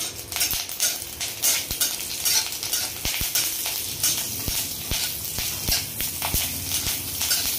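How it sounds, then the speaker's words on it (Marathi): Green chillies roast in a little oil in a pan, a crackling sizzle broken by frequent sharp clinks and scrapes of a utensil against the metal, close and fairly loud, with no talking. "त्यानंतर थोडंसं तेल टाकून त्याच्यावर हिरवी मिरची भाजून घ्यायची।"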